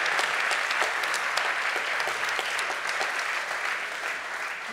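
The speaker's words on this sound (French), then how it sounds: "On peut applaudir très fort." Sustained applause from a conference audience at an award ceremony, steady dense clapping that fills the whole stretch at even loudness and tapers slightly at the end.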